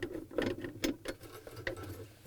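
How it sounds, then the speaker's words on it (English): A 1/4 inch nut driver backs out two small screws from a bracket inside a GE refrigerator, faint and close, with soft irregular ticks and scrapes of metal. "we're going to take out these two 1/4 inch screws using a 1/4 inch nut driver"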